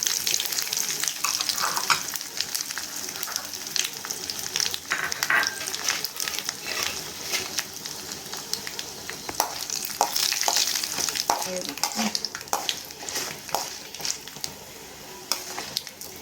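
Mustard seeds and dried red chillies fry in hot oil for a Tamil black chickpea sundal, giving a steady crackling sizzle with scattered sharp pops throughout, close and fairly loud, while a utensil stirs now and then.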